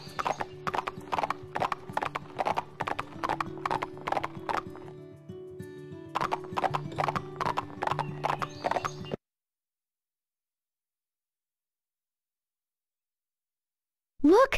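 In the Barbie Horse Adventures video game, a horse's hooves beat a quick, steady galloping rhythm for several seconds, clear and close, then stop into silence before a brief whinny-like sound at the end.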